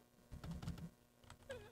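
Keys being typed on a Letton K1 gaming keyboard, a short burst of clicky presses close up with a few scattered taps afterward, quiet overall and with no talking.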